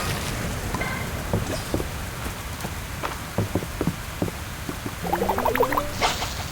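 Rain patters continuously in the farming video game Fields of Mistria, a close even wash broken by soft scattered taps and a brief cluster of brighter chimes near the end, with no speech.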